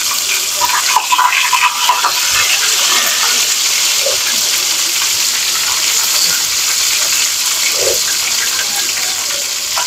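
Marinated food frying in a pan in a Bangladeshi home kitchen, a steady loud crackling sizzle with hissing, watery texture throughout, close and continuous with no talking.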